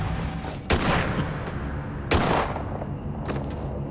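Two heavy gunshot-like blasts in a true crime reenactment of an execution-style shooting, the first near 0.7 s and the second about 1.4 s later, each with a long ringing decay over a dark dramatic score.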